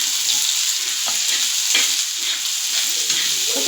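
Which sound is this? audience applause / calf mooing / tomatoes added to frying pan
tomatoes added to frying pan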